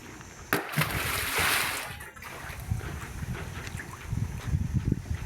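A lightweight CLC concrete block is thrown into water, landing with a sharp splash followed by sloshing and wind noise, while people talk nearby.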